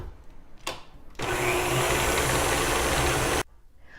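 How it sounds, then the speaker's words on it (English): Electric mixer creaming butter, sugar and shortening for snickerdoodle dough, whirring loud and steady for about two seconds after a short burst, then cutting off. "While we're creaming the butter, sugar, and shortening"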